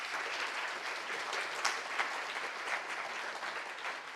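A conference audience at a banking presentation applauds a speaker, a fairly quiet but steady patter of many hands with a few sharper claps standing out.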